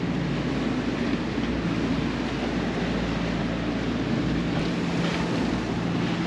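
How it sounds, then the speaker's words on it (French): A motor boat overtakes a sailing boat at sea, its engine a steady low drone under continuous wind and the wash of waves, loud and unbroken throughout. "on se fait doubler par un bateau moteur"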